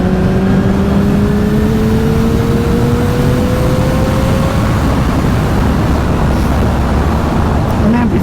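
A Honda CBR1000RR in sixth gear pulls harder as the throttle rolls on, its engine tone rising slowly under loud, constant wind roar and road noise, heard close from the rider's position.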